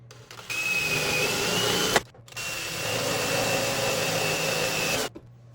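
A power drill bores holes for a universal bill validator and card reader weather cover in two steady whining runs separated by a brief pause, loud and close with no talking.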